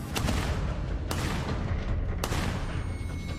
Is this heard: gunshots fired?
yes